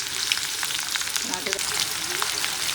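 Chopped onion frying in hot oil for a Solapuri chicken rassa, a dense, close crackling sizzle that runs steadily with light bubbling pops and no talking.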